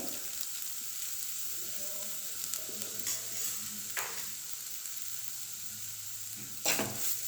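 Cooked rice with ground fresh coconut sautéing in ghee, a quiet steady sizzle with occasional light stirring scrapes and a louder clatter near the end.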